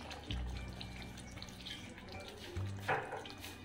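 Water splashes into a cooking pot of chicken rezala as a bowl is rinsed out, a short pour followed by soft trickling and dripping, close and quiet.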